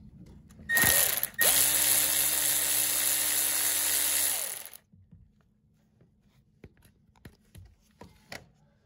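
A powered ratchet or driver spins bolts out of the passenger inner fender of a 2011–2016 first-generation Chevrolet Cruze 1.8L. Several seconds of loud, close whirring are followed by quiet clicks and small handling taps, with no speech.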